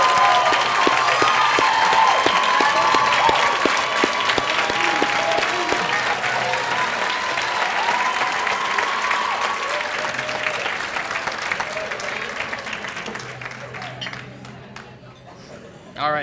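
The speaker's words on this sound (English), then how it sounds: "ask the advisors to stand and just give them a round of applause" Applause at an annual awards dinner for the advisors, a sustained round of clapping from a large room with a voice speaking over the start, slowly thinning out before the end.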